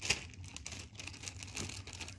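A plastic bag wrapped around a 1997 Pokémon booster pack crinkles close by, opening with a sharp crackle and continuing as soft, uneven rustling.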